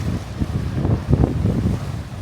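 Sea waves washing onto a Scottish island shore under gusting wind, close and fairly loud, with several surges of surf over a steady windy rumble and no talking.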